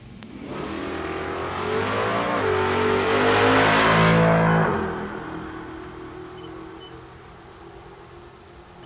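Naturally aspirated small-block drag racing car making a pass at Tulsa Raceway Park, engine revving up to a loud peak, then fading away down the strip into quiet.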